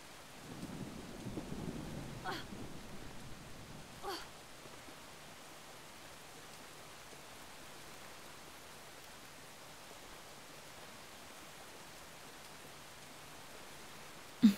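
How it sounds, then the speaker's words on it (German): Soft, steady rain in the video game Brothers: A Tale of Two Sons hisses quietly while a distant roll of thunder rumbles near the start, then fades into an even, faint patter. "Wie es im Spiel regnet und draußen regnet."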